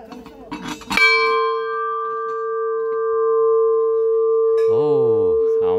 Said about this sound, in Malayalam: ഈ പ്രവേശന കവാടം വലിയ മണിയുണ്ടെന്ന് നമുക്ക് അടിക്കാം.